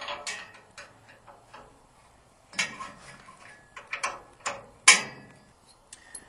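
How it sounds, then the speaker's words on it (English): A 9/16 wrench works on rear leaf spring shackle bolts, giving close, sparse metallic ticks and ratcheting clicks with short pauses between them and a louder clank near the end, without speech. "we're going to take off our rear shackle using a 9/16 wrench"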